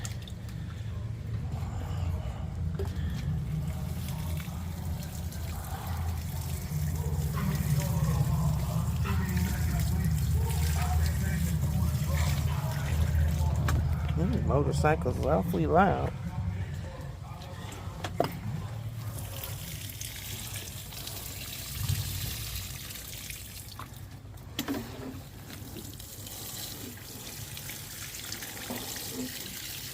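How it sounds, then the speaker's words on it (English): Water runs steadily from a hose or tap for a long stretch, with someone briefly talking over it and some outdoor background noise. "It's time to water the garden."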